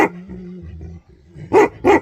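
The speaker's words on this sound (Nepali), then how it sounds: "सूर्य चुप टाइगर चुप" A Bhote Kukur, a Nepali mountain dog breed, growls low, then gives two loud, sharp barks in quick succession, close by.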